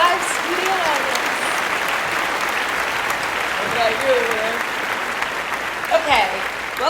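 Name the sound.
studio audience applause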